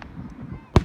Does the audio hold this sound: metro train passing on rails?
no